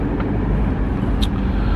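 A car drives along Chapel Street in Syston, its steady low road and engine rumble continuous and close throughout, with a faint brief high squeak near the end.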